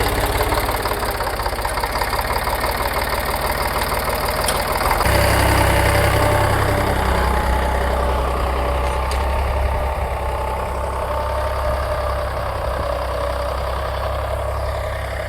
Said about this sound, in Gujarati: હવે નાના છોકરા પર હવે ટ્રેક્ટર હાંકવા મળ્યા